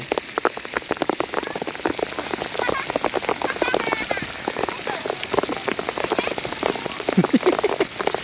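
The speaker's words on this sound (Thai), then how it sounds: "ตอนนี้ฝนตกแล้ว" Steady rain falling and pattering on surfaces outdoors, a dense continuous patter of drops throughout with faint voices underneath.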